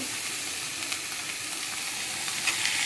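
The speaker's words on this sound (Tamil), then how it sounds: "நான் 3 பெரிய வெங்காயம் கட் பண்ணி வச்சுருக்கேன். அதை போட்டுக்கலாங்க." Three large chopped onions frying in a pan for a kurma gravy, a steady close hiss and sizzle with faint crackles and occasional light stirring, no voices over it.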